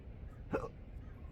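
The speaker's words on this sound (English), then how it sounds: "The hiccups are very random and erratic." A single short hiccup from a person outdoors along a coastline at sunrise, a faint, quick catch of breath heard once against a quiet background.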